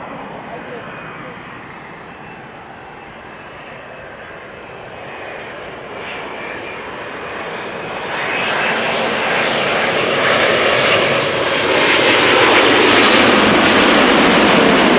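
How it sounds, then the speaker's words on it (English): Air Canada Boeing 787-9 Dreamliner arriving at Schiphol from Montreal, its jet engine rumble swelling steadily louder as it approaches, with people talking over the engine noise. "Next up, Air Canada flight 900, arriving from Montreal, another 7879 Dreamliner."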